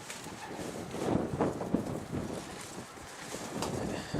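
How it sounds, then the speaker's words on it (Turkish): Gusty wind rushes and buffets steadily throughout in snowy conditions, a broad roaring noise with no voices. "Rüzgar yine esmeye başladı."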